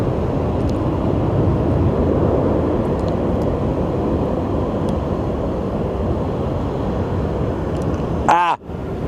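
An airplane flies over Sky Harbor airport, a loud, broad, steady jet roar that holds for several seconds before a brief close-up bump near the end.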